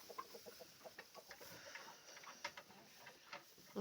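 Soft, scattered clucking from chickens nearby, short low calls repeating irregularly over a quiet outdoor background.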